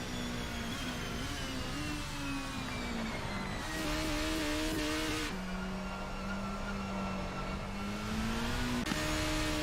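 Racing cars in a video game circulate behind a safety car at the French Grand Prix, their engines droning steadily with rising and falling pitch, a continuous close engine tone with no talking.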